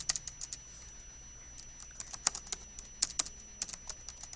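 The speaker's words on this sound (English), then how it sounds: "Not typing very well." Typing on a computer keyboard: a quiet, irregular patter of single clicks and short bursts of keystrokes, close and steady, with no talking.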